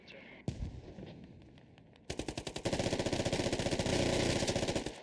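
Rapid automatic gunfire from a competitive Squad match, a few scattered shots giving way to a sustained, loud burst of rhythmic rifle and machine-gun fire under faint game sounds.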